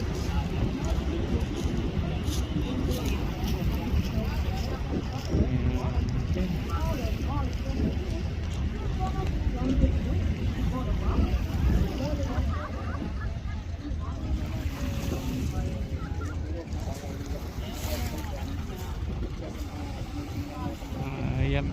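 Boats on the water near a rock garden and outfall along Dolomite Beach, a continuous dense rumble of engines mixed with waves and wind, steady and loud throughout, with a person talking over it.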